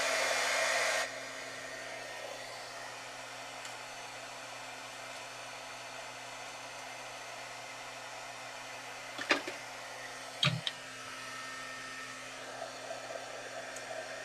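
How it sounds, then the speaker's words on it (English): A heat embossing tool blows hot air over a stamped watercolor hibiscus card, a loud rushing whoosh that cuts off after about a second, leaving a quiet room with a couple of soft knocks. "I'm going to heat emboss this. I know it'll be loud"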